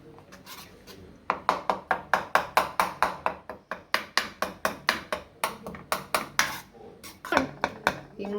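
Spoon scraping and knocking steadily against a pot while mango jam is stirred, a fast run of close, bright, regular strokes with a few brief pauses.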